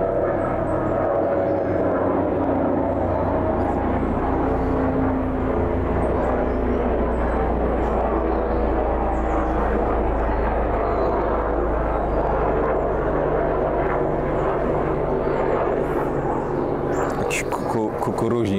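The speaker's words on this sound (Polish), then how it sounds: "Kukuruźnik przeleciał." An Antonov An-2 biplane drones overhead, a steady loud propeller engine rumble that persists throughout and fades slightly toward the end.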